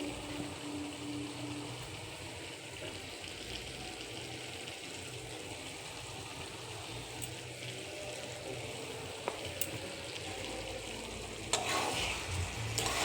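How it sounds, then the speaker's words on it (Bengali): Spices and turmeric being stirred and fried in a pan, a steady close sizzle with scraping stir strokes throughout, a few sharper clinks near the end. "শুধু মশলা দিয়ে এইভাবেই কষাবো"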